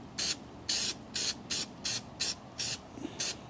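Filter oil sprayed from an aerosol can onto the fins of a Harley-Davidson Touring motorcycle air filter, about nine short, sharp hissing bursts in an uneven rhythm, close by.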